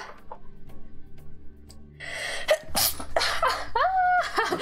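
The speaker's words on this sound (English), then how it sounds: "I'm going to sneeze again." A person sneezes loudly and close to the microphone, a sharp burst followed by gasping breaths, after a stretch of quiet background music and light movement, with no talking.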